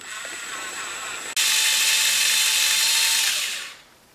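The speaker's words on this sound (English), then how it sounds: "The reason we're using a left hand drill bit is so that hopefully the drill bit catches it" A power drill with a left-hand bit whirs steadily while drilling out a broken head stud in an LS engine, jumps to a louder, higher-pitched grind midway, then winds down and stops near the end.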